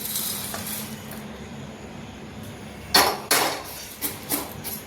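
Roasted spices for rasam powder poured into a metal container, heard as a few sharp clinks and rattling taps of metal on metal against quiet kitchen background, in a short cluster of hits toward the end.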